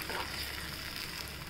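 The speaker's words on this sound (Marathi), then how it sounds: "तर आपण त्याचा कच्चेपणा जाण्यासाठी थोडं तेलात त्याला परतून घेऊया" Ground onion and tomato paste frying in hot oil for a bottle-gourd kofta curry gives a steady, close sizzle for a brief moment, with no voices.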